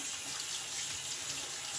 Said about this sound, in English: Get it wet with some cold water.